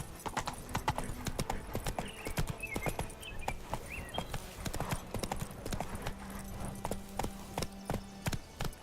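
Roach, a horse in The Witcher 3, trots with steady, rhythmic clip-clop hoofbeats on a hard surface, close and clear, with a brief whinny-like tone and faint background game ambience.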